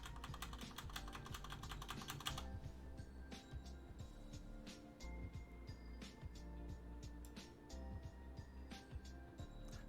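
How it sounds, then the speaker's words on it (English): Rapid typing on a computer keyboard, a dense burst of clicking for the first two seconds followed by scattered, irregular keystrokes, soft and close with no talking. "So if we start typing,"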